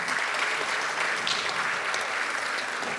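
Applause in a legislative chamber in Quintana Roo, a full steady clapping from the floor lasting a few seconds, moderately loud with no talk over it.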